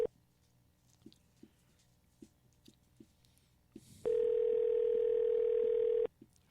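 A telephone call is placed: a few soft, evenly spaced clicks and beeps come first, then a loud, steady dial tone holds for about two seconds before cutting off, with no voices.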